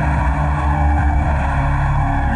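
BMW Z4 M Coupe on the Estoril circuit in Portugal, driven with electronic aids off: a loud, steady engine roar with strong low rumble holding constant throughout, close and unbroken with no talk.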